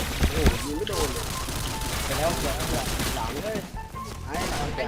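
Gunfire in PUBG, bursts of rapid shots crackling over a busy game mix while someone talks excitedly throughout.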